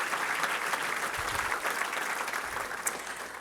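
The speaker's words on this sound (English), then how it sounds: "a big round of applause for all of our laureate committee" Sustained applause from a crowd at a business hall of fame awards event, a steady wash of many hands clapping at a moderate distance, with no voices over it.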